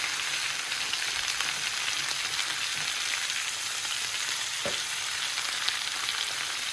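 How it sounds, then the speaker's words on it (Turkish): Zucchini pieces fry in oil in a pan like french fries, a steady dense crackling sizzle throughout with one brief soft clunk partway, no talking. "kabağımızı bu şekilde patates kızartır gibi tavama attım. Öyle yavaş yavaş kızaracak"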